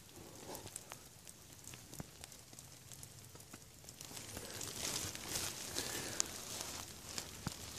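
Rain falling outdoors somewhere in central Texas, a soft, steady patter with scattered drops tapping nearby surfaces, faint and continuous with no talking.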